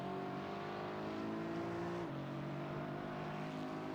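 A Porsche race car engine in Gran Turismo 4 drones steadily at high revs, a buzzing harmonic whine that drops sharply in pitch at a mid-clip gear change, then holds steady again; constant, moderately loud, no voices.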